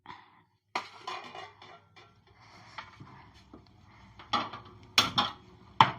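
A metal cooking pot set onto a kitchen stove, with several sharp clanks and scrapes of metal spaced out over a few seconds, close and fairly quiet between knocks.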